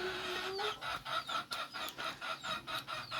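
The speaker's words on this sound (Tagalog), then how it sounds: "Manok! Yan ang imong pagkaon." Chickens cluck in a rural yard while being called to their feed, a run of short, evenly spaced clucks at moderate distance with no talk over them.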